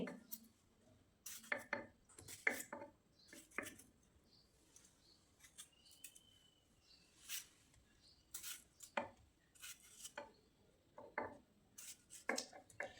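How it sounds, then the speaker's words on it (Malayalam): A tomato being chopped with a knife on a board for a coconut-based ash gourd curry, with irregular crisp close cuts in short bursts over quiet kitchen background. "ഒരു തക്കാളി അരിഞ്ഞിടാം"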